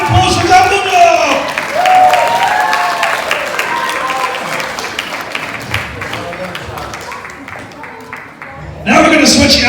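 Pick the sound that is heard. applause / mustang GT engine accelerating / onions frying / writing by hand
applause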